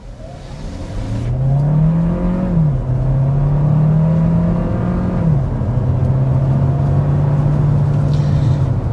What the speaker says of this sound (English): we can go ahead and get a acceleration here from a stop here just to kind of demonstrate what it looks like on a flat surface